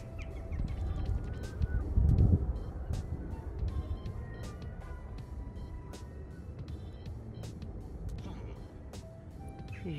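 Birds call in short chirps and honking cries at a distance, scattered throughout while people talk nearby and faint traffic hums.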